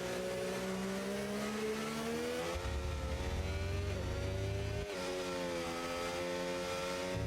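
A McLaren race car roars at full throttle through a race in Spain, its engine note climbing steadily through upshifts with one clear gear change midway, loud and continuous with no talk.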